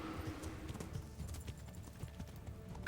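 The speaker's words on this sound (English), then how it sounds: "Mi caballo estaba campeando todo el combate." Horse hooves clip-clop at a steady walking rhythm in the medieval game Kingdom Come: Deliverance, with a continuous low rumble beneath the steps and a brief brighter burst right at the end.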